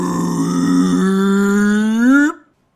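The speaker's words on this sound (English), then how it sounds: "May unleashed the biggest burp ever and it rattled the kitchen." A long, loud voiced burp rumbles out close up, a drawn-out tonal belch of about two seconds that swells slightly before cutting off abruptly.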